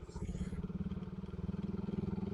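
A restored Suzuki Satria FU motorcycle rides along a one-way street, its engine running with a steady pulsing drone that stays loud and close throughout, with a voice faintly present.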